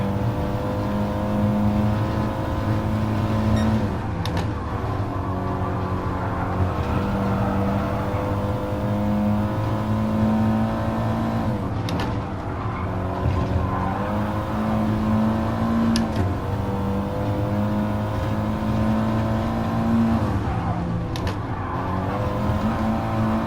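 Race car engines in the GT Sport video game drone and rev steadily for over twenty seconds, dipping briefly at a few gear shifts and braking points and then climbing again. No speech is heard.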